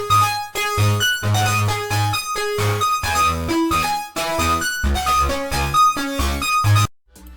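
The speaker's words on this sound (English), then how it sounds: "for this melody I used a preset called Spacey" A spacey Serum synth melody from the Flash Multikit, a preset built from three saw waves with frequency modulation, plays a busy, bright line over a deep bass pulse, loud and continuous before cutting off near the end.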